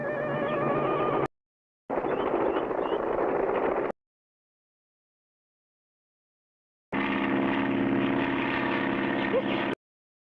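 Propeller airplane drone from a 1960 vintage cartoon, a loud steady engine buzz heard in three bursts separated by short and long silent gaps.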